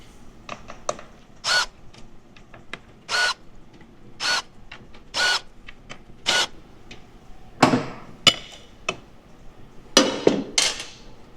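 Tools working on a motorcycle's derby cover to remove it, a series of sharp separate metallic clicks and clanks spaced irregularly over a quiet background, close by, with no talking.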